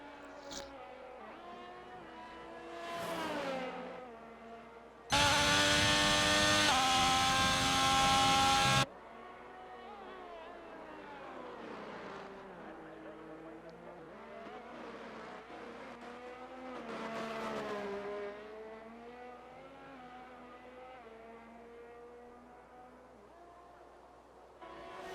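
A Haas race car's engine sweeps up and down through its gears around a British track, with repeated rising and falling whines, a burst of loud broadband noise partway through, then steady mid-level engine tone.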